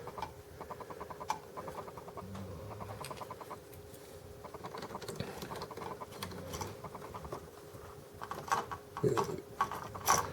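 A wire connector is twisted onto ceiling fan wall switch wires: quiet, close ratcheting clicks and scratchy plastic twisting come in short bursts over a faint steady hum, louder near the end.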